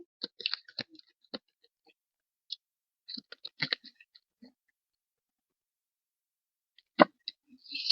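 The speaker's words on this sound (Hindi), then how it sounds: "Let me take out all the cards and then I'm going to clarify." Tarot cards are taken out of a deck as crisp, scattered clicks and light taps in a quiet room, with a cluster at the start, another in the middle and a sharp snap near the end.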